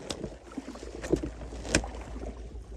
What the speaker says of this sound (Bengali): আমরা বাইক চালাতেছি না নৌকা চালাইছি